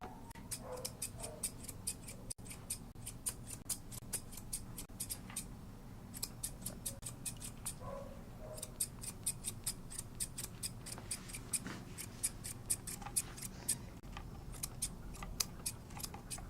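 Grooming scissors trimming and shaping a poodle's coat, with rapid snips in steady bursts and short pauses between runs. The sound is close but quiet, and no one talks.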